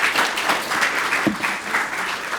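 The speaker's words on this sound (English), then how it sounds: "Round of applause," An audience at a leadership event applauds a speaker, dense, close clapping from many hands that stays full and even for the whole stretch, with one brief low thump partway through.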